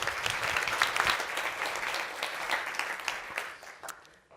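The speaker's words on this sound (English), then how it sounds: "Please, a big round of applause for her." Audience at a conference talk applauding a speaker, a full wash of clapping that holds steady and then tapers off and fades near the end.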